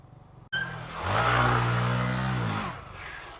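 A motorcycle engine is pushed straight to full throttle while the bike drifts in circles, opening with a sharp crack and then holding a loud, steady high-revving drone before easing off near the end.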